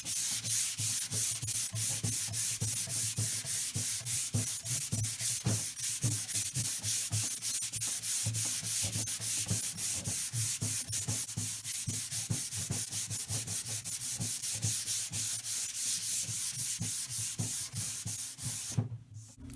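Sandpaper of 150 grit rubs by hand across a water-damaged antique wooden tabletop, a steady run of quick, rhythmic back-and-forth strokes close by, without a break until a brief stop at the very end.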